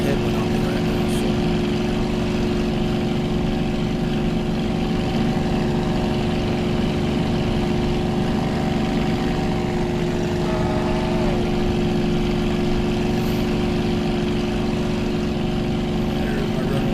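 A propeller aircraft engine in a flight simulator game on approach to a paved runway, a steady droning hum with a constant tone running throughout, while someone talks over it.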